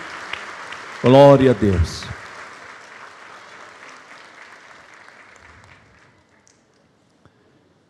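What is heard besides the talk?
church congregation applauding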